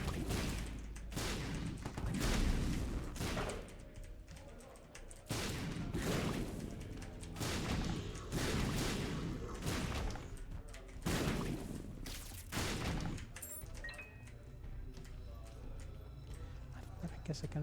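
Enemies blowing up in The Binding of Isaac: Repentance, a rapid run of loud, dense bursts and crashes packed close together over game music, with a person talking over the action.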